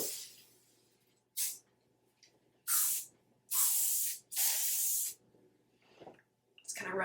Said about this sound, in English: Now I am just going to run some texturizing hairspray in it.